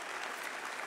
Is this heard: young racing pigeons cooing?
no